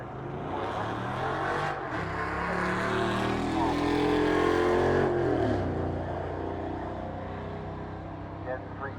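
A 1966 Dodge drag car with a Street Hemi engine roars at a drag strip, building to a loud sustained run and fading, heard at some distance amid crowd and track ambience.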